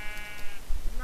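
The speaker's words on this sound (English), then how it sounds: "Why aren't you breeding the sheep?" Sheep bleating in the video game SurvivalCraft, a single short wavering bleat standing out clearly over low game background sound.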